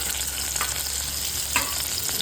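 Onions sizzle steadily in hot oil with asafoetida, a close, even crackling hiss with a couple of stirring scrapes.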